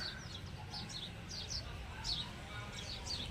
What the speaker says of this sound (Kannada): ಹಾಗೆ ಪಕ್ಷಿಗಳ ಚಿಲಿಪಿಲಿ ನಾದ ಕೇಳಿಸ್ಕೊಳ್ಳಿ